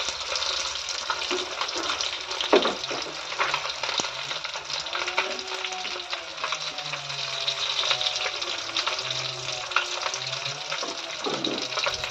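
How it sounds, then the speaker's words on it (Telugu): Gorasa fish frying in a pan with lemon juice, giving a steady, close sizzle and crackle throughout, with occasional soft scraping from turning the pieces and no talk. "మూత పెట్టుకుంటే బాగా ఫ్రై అవుతాయండి"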